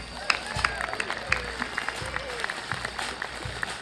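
Steady clapping from a crowd, a dense patter of hands with a few louder claps standing out, with faint voices mixed in.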